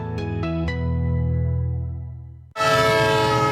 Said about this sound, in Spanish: Un tren que se va.